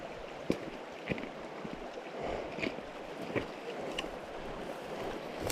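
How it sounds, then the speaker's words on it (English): Horses wade through a creek on an elk hunting trip in the Colorado backcountry, sending up several distinct splashes over steady running water, with wind noise on the microphone. "And we got a sweet, graceful creek crossing."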